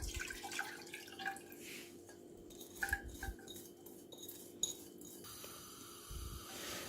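Utensil scraping and clinking against a saucepan as a chocolate caramel mixture is stirred, a steady run of small metallic taps and scrapes close by with no talk.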